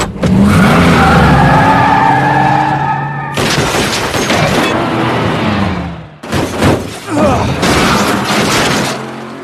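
A car chase in an action film, loud and close: squealing, skidding tires over a roaring engine, broken by abrupt cuts and heavy thuds.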